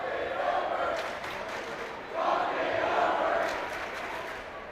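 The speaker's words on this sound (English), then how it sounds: "I was trying to make out that cheer" Fans roar at a high school boys basketball game in a gym, a sustained, distant crowd noise that swells partway through, with a voice talking faintly underneath.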